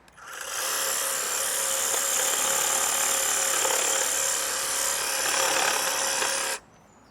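A Cramer 82HD62 battery hedge trimmer cuts through thick, older hedgerow with a loud, steady, close buzzing drone. It starts abruptly, runs unbroken for about six seconds, then cuts off.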